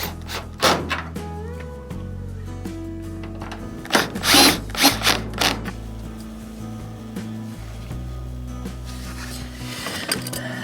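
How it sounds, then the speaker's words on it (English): Power drill drives screws to secure the top panel of a GE clothes dryer, model GTD42EASJ2WW, during a drive belt replacement, with several short whirring bursts and a longer run near the middle, close and fairly loud, with clunks of handling between. "Next step is to align these holes and drive these screws in to secure the top."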